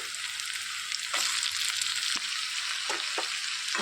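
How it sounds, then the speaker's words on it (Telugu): Onions, green chillies and curry leaves fry in a pan with a steady bright sizzle, close and continuous, with a few soft stirring scrapes of a spoon against the pan, no talking. "ఉల్లిపాయలు ఈ విధంగా వేగిపోయిన తర్వాత దోసకాయ ముక్కలు వేసేసుకోవాలి"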